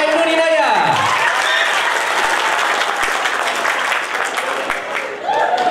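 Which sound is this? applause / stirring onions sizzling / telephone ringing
applause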